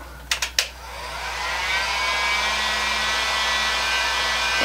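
A heat gun switches on after a few brief clicks and keeps up a steady, loud whooshing blow of air with a faint motor hum underneath, used while prepping a thick gloss bar top finish.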